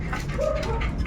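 A dog gives a brief, high whimper over a low rumble of background noise.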